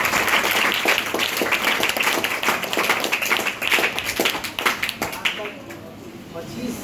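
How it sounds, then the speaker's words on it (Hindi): An audience at an education talk claps loudly and continuously, the applause thinning and fading out near the end as a few individual claps and some voices remain. "बहुत धन्यवाद, ताली बजाइए।"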